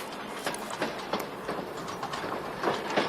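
A train runs on rails with a steady rhythmic clickety-clack of wheels over joints, close and continuous, under a rumbling roar with no talk.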